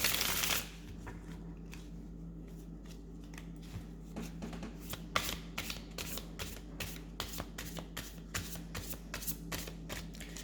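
A deck of tarot cards being shuffled close up, a run of quick crisp riffles and taps with fairly regular rhythm after a brief rustle, quiet and with no talking.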